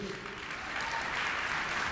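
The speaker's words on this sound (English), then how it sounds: "you're applauding" A studio audience at a talk show claps, a soft, diffuse wash of many hands that swells slightly toward the end, fairly distant and faint, with no clear voices over it.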